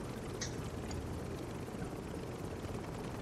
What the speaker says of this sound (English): We're attempting the helicopter refuel.